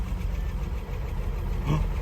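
A car engine with a slight vacuum leak and no cooling system idles with a steady low rumble, running evenly throughout with a slight surge near the end.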